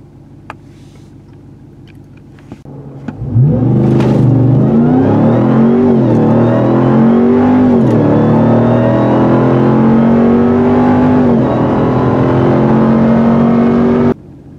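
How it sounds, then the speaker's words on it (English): A 2021 Ram 1500 TRX Hellcat pickup launches hard from rest on launch control. Its engine roars up sharply and climbs through loud, close revving for about ten seconds before cutting off. "Let's try launch control"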